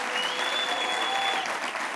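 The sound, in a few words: audience applause for the 10 pitch participants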